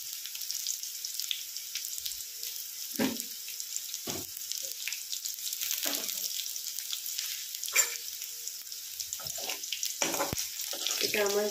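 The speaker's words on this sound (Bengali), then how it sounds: "এটা আমার ভাজা মোটামুটি হয়ে গেছে" Okra sizzling and frying in a pan for a vegetarian curry, a soft constant crackle broken by several brief clinks and scrapes of stirring, fairly quiet and close with no talking.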